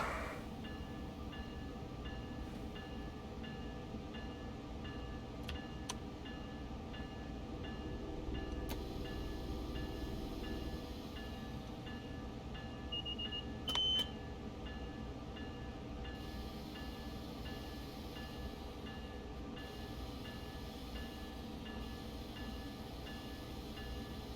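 A train runs with a steady rumble and hiss throughout, with faint squeals and a few brief clicks as it gradually eases down, and no voices.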